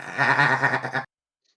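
A human voice imitates a contented goat's bleat: one wavering, nasal baa about a second long, close and clear, then it cuts off to silence.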